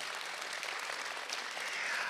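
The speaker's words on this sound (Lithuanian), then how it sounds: "plojimai vaistininką" Applause from an audience for pharmacists at a talk, a steady dense patter of many hands clapping throughout, close and even in level.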